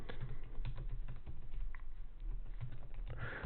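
Steady, rapid typing on a computer keyboard while writing code, with dense clattering keystrokes close by and no talking.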